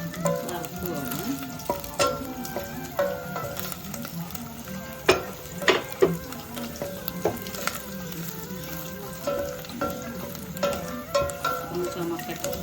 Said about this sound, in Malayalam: തേങ്ങാക്കൊത്ത് നല്ലപോലെ റോസ് കളറാകുന്നത് വരെ വറുത്ത് പോകണം.